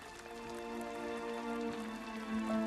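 Rain falls in a foggy scene of the animated film The Book of Life, a soft, steady patter that sits under sustained tonal music with no voices.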